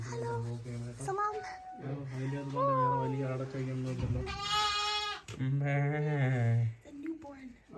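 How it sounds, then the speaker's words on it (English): A newborn lamb bleats repeatedly in the Saudi Arabian mountains, its high wavering cries loud and close and coming in long drawn-out calls, with a few brief spoken words nearby. "Oh my god, a newborn baby sheep."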